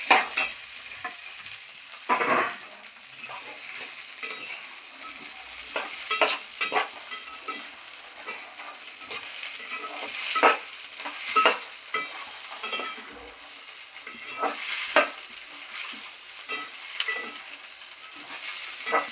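Sweet corn kernels fry in hot oil, giving a quiet continuous sizzle broken by sharp pops and spits that crackle irregularly throughout.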